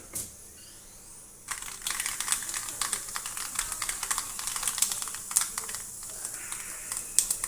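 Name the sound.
mustard seeds spluttering in hot coconut oil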